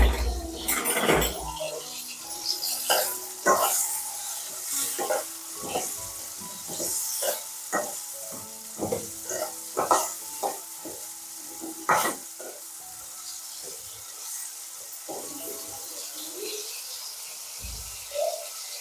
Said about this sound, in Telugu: ఇప్పుడు ఆయిల్లో ముందుగా వాటర్ తీసి పెట్టుకున్న కాకరకాయలు వేసుకొని ఫ్రై చేసుకోవాలి